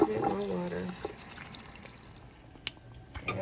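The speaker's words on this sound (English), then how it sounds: "I'm gonna add a little bit more water." Water trickles and drips into a cooking pot for a pot of grits, a soft splashing after a short burst of voice at the start, with faint scattered drips following.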